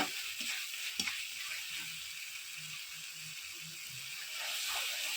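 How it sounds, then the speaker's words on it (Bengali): Egg curry masala sizzles and fries steadily in a pan with coconut milk, a continuous bright hiss with occasional stirring scrapes close by. "এইভাবে নারকেলের দুধ দিয়ে দিয়ে মশলাটাকে ভালো করে কষিয়ে নেব"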